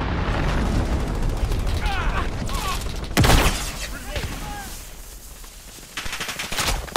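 Gunfire in the video game Call of Duty Modern Warfare, with rapid bursts of automatic fire and heavy impacts, loud and close, mixed with in-game voices calling out.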